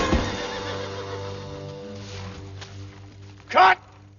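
A horse whinnies loudly and close by near the end, a single harmonic neigh set against a steady low hum on an old film set, with no talk over it.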